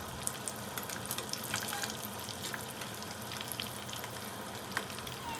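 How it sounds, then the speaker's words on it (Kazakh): Mini chebureki, small fried pastries of flour, water and herbs, sizzle steadily in hot oil in a pan over moderate heat, a continuous crackling fry with scattered pops and stirring, alone without talk. "біздің мини чебурекилерімізді салып, екі жағынан осылай қайта-қайта араластыра отыра қызарғанша пісіріп аламыз"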